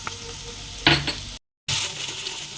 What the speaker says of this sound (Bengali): পেঁয়াজ রসুন হালকা করে ভাজবো।